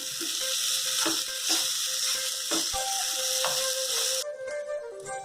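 Mashed potatoes stirred into lightly roasted spices in a pan for Bombay masala toast, a hissing sizzle broken by repeated scraping strokes of a spoon about once a second, close and loud, then cutting off near the end.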